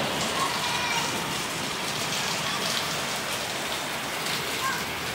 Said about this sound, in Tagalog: First time mo maligo sa ulan